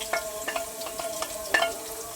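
Garlic and green chilies fry in hot oil in a home kitchen, a steady soft sizzle broken by several sharp stirring clicks of a spoon against the pan, fairly quiet and with no talk.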